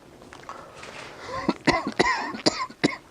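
A run of sharp, close coughs, five or six in quick succession, rough and throaty, with no talking.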